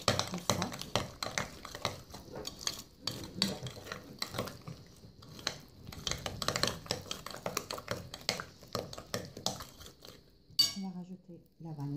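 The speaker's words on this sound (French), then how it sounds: "On va rajouter l'œuf. On va rajouter le sucre. On va mélanger tout ça." Egg and sugar are mixed in a bowl for a small apple cake, giving steady clinks and scraping stirs of a utensil against the bowl, close and fairly quiet, with a voice speaking over parts of it.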